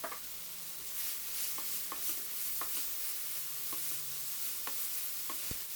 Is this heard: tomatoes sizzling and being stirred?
yes